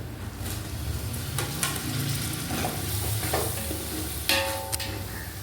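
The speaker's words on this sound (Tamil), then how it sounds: "இப்போ நம்ம தக்காளி நல்லா வதங்கிடுச்சு" Tomatoes, about 400 grams of them, sautéing and being stirred in a pan for veg biryani, a steady close sizzle with scraping stir strokes and a few sharper clinks near the end.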